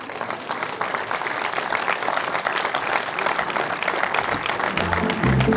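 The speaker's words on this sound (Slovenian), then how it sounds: "Sedaj pa lahko ploskate kar v paketu." An audience at a summer evening folk concert in a Carthusian monastery claps steadily in dense, sustained applause for several seconds, with a low instrument starting in at the end.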